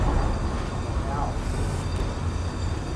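A train rolls past a trackside spot during a photo walk, a continuous low rumble and rattle of wheels on rails, fairly close and steady for the whole stretch.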